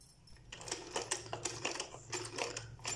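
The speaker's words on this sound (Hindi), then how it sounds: "तो अब ये भी उसके साथ हम सिलाई कर देते हैं।" A sewing machine stitches together pieces of a cloth mask made from a cloth bag, a close, steady mechanical rattle running in short bursts with brief pauses between them.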